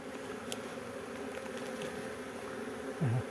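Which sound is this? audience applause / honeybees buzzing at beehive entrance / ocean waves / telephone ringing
honeybees buzzing at beehive entrance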